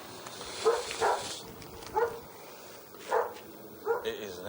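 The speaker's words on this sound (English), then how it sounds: "It is an Alsatian." An Alsatian dog gives five or six separate barks at moderate distance, spaced irregularly across a few seconds, with faint background murmur between them.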